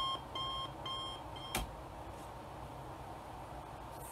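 An alarm clock beeps in quick repeated bursts at the start, then goes quiet under a steady hiss of room noise, with one sharp knock partway through.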